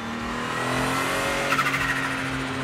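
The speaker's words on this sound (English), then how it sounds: "The turbo noise when you drive the car is so evident." Porsche 911 GT1 EVO driven on the road, a steady loud engine drone with strong turbo whine and a brief fluttering burst partway through, no voices.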